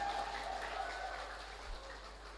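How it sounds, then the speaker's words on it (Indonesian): Audience applause rises at a university faculty graduation ceremony, a dense patter of many hands clapping steadily for about two seconds, fairly faint and even, with a bit of voice-like tone mixed in. "tepuk tangan dulu."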